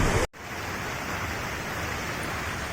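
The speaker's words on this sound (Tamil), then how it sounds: "இங்கே தண்ணியோட சவுண்டு கேளுங்களேன்" A constant rushing roar of water gushing from the Thamaraipakkam dam, broad and steady like a waterfall, after a short abrupt cut at the start.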